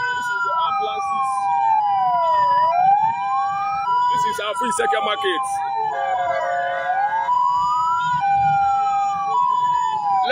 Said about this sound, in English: This is the ambulances.